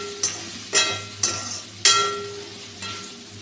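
Dal tadka frying in a pan with sambar powder, stirred with a spoon in several separate strokes, each a short scraping sizzle over a steady low hum, close and moderately loud.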